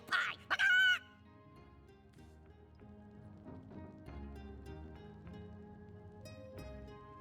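A chicken in the video game Divinity Original Sin lets out a short burst of loud squawking clucks near the start, then softer murmuring clucks continue over quiet game music.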